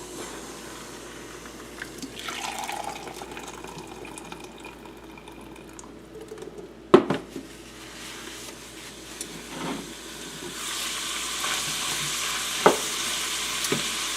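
Ham sautés in a pan as its liquid cooks out, a low continuous sizzle with occasional stirring knocks and a couple of sharp clanks, the frying hiss growing brighter and louder toward the end.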